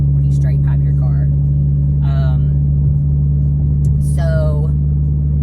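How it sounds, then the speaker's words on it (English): A loud straight-piped car engine rumbles steadily underneath, a constant deep drone filling the whole stretch while someone talks over it in short bursts. "I know that my car is loud. That's what you get when you straight pipe your car."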